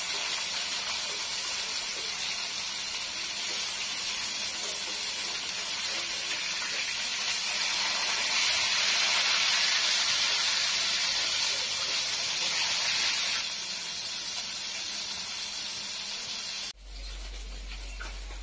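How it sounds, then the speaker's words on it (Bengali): Snakehead fish sizzles steadily in hot oil in a pan while being flipped, a continuous loud hiss and crackle that ends abruptly near the close. "মাছগুলো একটু হয়ে গেছে, এখন আমি উল্টিয়ে দিচ্ছি।"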